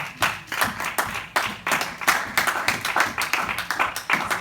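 A church congregation claps together during a Sunday service, a dense, steady patter of many hands filling the room for several seconds with no talk over it.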